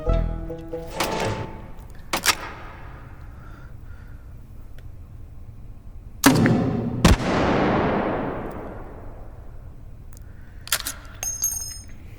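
Several deep booming shots from an M79 "Thumper" grenade launcher in the game Hot Dogs, Horseshoes and Hand Grenades, each a sharp crack with metallic clicks of reloading between; one mid-clip blast rolls into a long, fading rumble.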